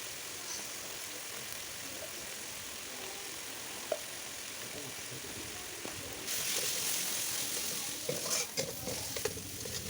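Spiced vegetables for a vegetable khichuri are stirred and fried with garlic and cumin in a pan, giving a steady close sizzle with occasional scraping clinks and a louder burst of frying toward the end.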